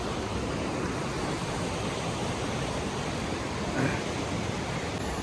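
A mountain river rushes behind a trail on the way to a Himalayan base camp, a steady broadband roar of flowing water that holds evenly throughout, fairly close, with a brief faint knock near the end.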